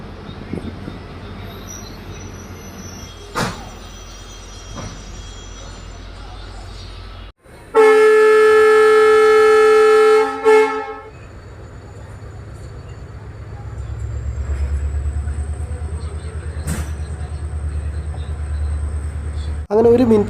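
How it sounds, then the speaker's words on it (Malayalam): A MEMU electric train departing B.G. Nagar railway station sounds one loud, sustained horn blast of about three seconds, preceded and followed by a steady low rumble of the moving train, with a voice speaking over it. "നമ്മുടെ ട്രെയിൻ അങ്ങനെ ഇതാപ്പം ബി.ജി. നഗർ റെയിൽവേ സ്റ്റേഷനിൽ ഇപ്പോൾ വീണ്ടും പുറപ്പെട്ടിരിക്കുകയാണ്"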